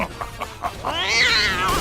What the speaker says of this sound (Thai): แมว แมวแมวแมว